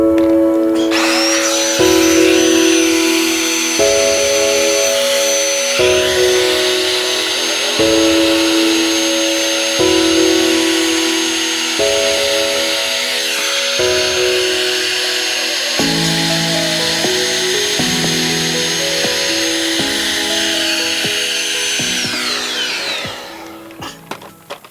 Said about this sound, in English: That vacuum's so loud I can't really hear.